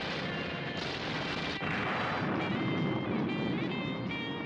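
A cartoon explosion destroys a building in a 1975-era animated show, a dense crackling rumble of blasts and debris that stays loud and continuous from start to finish.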